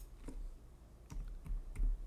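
A handful of soft, separate keystrokes tap on a computer keyboard while Python code is being typed, close and fairly quiet.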